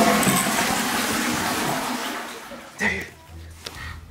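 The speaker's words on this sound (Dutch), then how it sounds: "Ik ga doortrekken, Tef." A household toilet flushes in a rushing, gurgling burst of water that fades over a few seconds, followed by faint clinks and small movements in the room.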